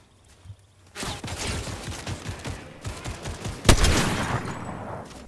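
Gunfire crackles in a first-person shooter video game, beginning after a second of near silence. Rapid automatic bursts and scattered single shots follow, punctuated by one loud sharp crack, with no talk.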